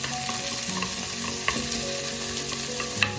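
Onions and curry leaves sauté in a pan with a dense, continuous sizzle and crackle, close and even throughout, with light stirring scrapes and no voices.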